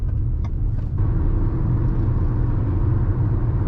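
Steady low road and tyre rumble inside a Maruti Victoris LXi CNG car fitted with CEAT tyres, a constant dense drone heard alone without speech.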